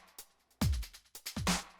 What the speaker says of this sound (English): And first I have this old BHK drum loop that sounds like this.